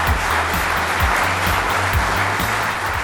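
Audience applause for an award winner at a French business awards ceremony, dense loud clapping filling the room throughout with a low rhythmic music beat underneath.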